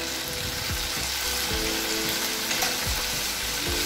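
Ivy gourd pieces sizzle and fry in a pan as salt and turmeric go in, a soft continuous crackle with a few stirring scrapes, no voices.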